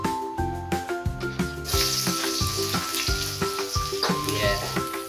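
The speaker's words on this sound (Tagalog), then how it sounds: "Mainit na, ito na yung bawang." Garlic frying in hot oil, a bright steady sizzle under a repeating rhythmic knocking from the cooking, close and continuous.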